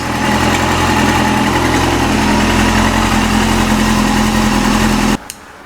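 A Yamaha YZF-R6 engine running on new ignition coils idles loud and close with a steady droning hum, then cuts off abruptly near the end, leaving quiet.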